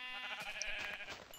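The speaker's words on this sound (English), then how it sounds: "But nope, they're sheep." Sheep bleating in the Minecraft video game, a short wavering animal call heard clearly over a steady background hum.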